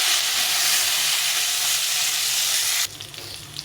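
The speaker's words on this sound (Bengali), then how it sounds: "থেকে সিমটাকে একটু ভেজে নেব।" Flat beans and potatoes frying in hot oil for a winter fish curry give a loud, steady sizzle that runs unbroken, then drops suddenly to a quieter crackle near the end.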